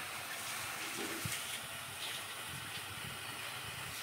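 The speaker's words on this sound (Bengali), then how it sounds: "এখন সিমগুলো সিদ্ধ দিয়ে দেবো" Hyacinth beans boil in a covered pot of salted water with coriander leaves, giving off a steady, close hiss of steam that holds evenly throughout with no talking.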